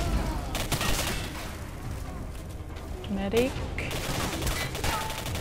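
Gunfire rattles through a S.T.A.L.K.E.R. Singularity mod firefight, dense bursts of shots near and far under someone speaking briefly.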